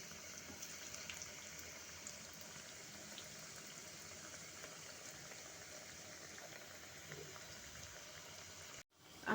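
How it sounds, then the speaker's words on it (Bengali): Carrot dhoka, lentil cakes, fry crisp in oil in a pan, giving a faint steady bubbling sizzle that carries on evenly and cuts off abruptly near the end. "আমি উল্টে পাল্টে ধোকাগুলোকে ভেজে নেব কড়া করে।"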